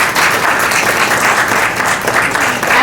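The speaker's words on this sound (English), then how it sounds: "Please give him a big applause." A crowd at a neurology academy talk breaks into loud, sustained applause, dense clapping filling the room without a break.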